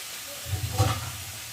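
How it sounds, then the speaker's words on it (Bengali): Chicken cooked with spices sizzles in a pan, a brief close hiss and crackle that swells in the middle and then settles back to a faint simmer. "তো দেখো ভালোভাবে মশলার সাথে চিকেনটাকে কষিয়ে নিয়েছি।"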